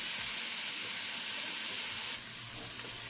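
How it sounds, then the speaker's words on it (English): Peppers and onions sauté with sausage in a pan, a steady close sizzle and hiss of frying that continues without a break. "I added in the peppers and onions to saute and start cooking down"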